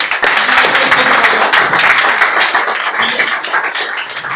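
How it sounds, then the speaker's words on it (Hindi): Audience applause at a networking meeting venue in India, steady loud clapping from a seated crowd that holds evenly and eases slightly toward the end. "तो मैं चाहूंगा कि मेरे माँ बाप के लिए बहुत ज्यादा तालियां बजें यहाँ पे।"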